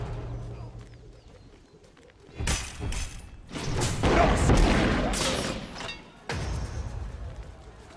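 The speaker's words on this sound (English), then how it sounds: "Destroyed a middle enemy Phoenix." Enemy Phoenix tower crumbling apart in the Smite video game, a loud burst of crashing, booming destruction rising from quiet game ambience, with several heavy impact surges over several seconds.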